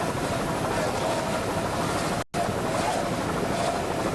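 An offshore racing powerboat engine, heard during the 1987 Trump's Castle Offshore Race, gives a loud, steady broadband roar with no change in throttle. The roar cuts out for a moment midway and then comes straight back at full strength.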